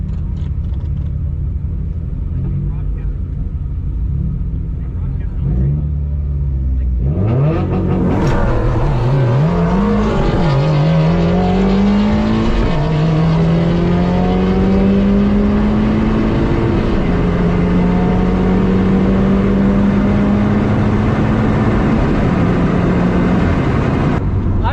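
A Subaru WRX accelerates hard at a drag race beside Freedom Factory, its engine climbing through repeated gear-change sweeps after a quieter idling start, loud and close, with no talk over it.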